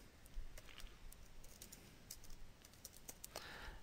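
A name is typed on a computer keyboard with an irregular patter of quiet, close key clicks. A few sharper taps stand out over a faint background.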